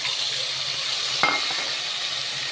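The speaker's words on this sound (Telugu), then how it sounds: "ఇప్పుడు ఉల్లిగడ్డ పేస్ట్ వేసుకుందామండి." Onion paste frying in oil in a pan makes a steady bright sizzle, with a single sharp clink of a utensil midway.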